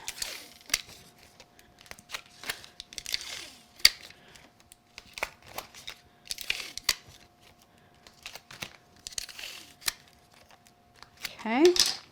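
Craft tape being torn and pulled from a roll while a floral framed card is assembled: a series of short, sharp ripping and crinkling bursts spread across the stretch, close and fairly quiet, with a final louder pull at the end.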